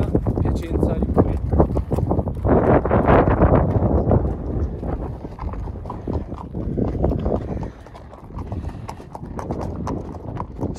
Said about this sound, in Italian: oggi abbiamo fatto il cowboy dietro le mandrie di cavalli, di vacche